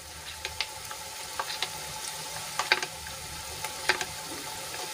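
Spices sauté in a hot pan for a Gujarati vegetable curry, giving a steady sizzling hiss broken by frequent sharp crackles and pops throughout.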